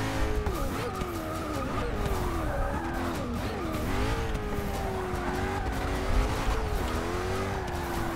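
A Koenigsegg Agera race car is driven on the Daytona sports car circuit, its engine droning loud and continuous with wavering pitch and tire squeal, with no speech.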